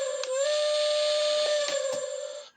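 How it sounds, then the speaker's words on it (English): A Lionel LionChief toy steam locomotive from the UP Steamin' Flyer freight set sounds its whistle effect: one loud, steady, multi-toned blast held for about two seconds before it cuts off, heard alone. "So first off, we've got our whistle,"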